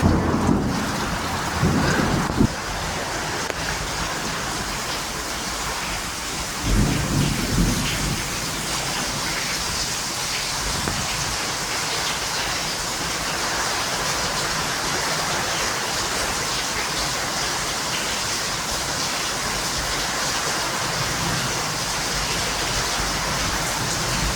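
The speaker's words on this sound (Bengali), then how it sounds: "দেখুন কি জোরে বাতাস" A stormy downpour with strong gusting wind roars steadily and loudly throughout, broadband and unbroken, with a couple of heavier rumbling surges early on.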